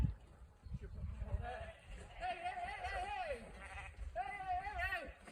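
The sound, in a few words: sheep bleating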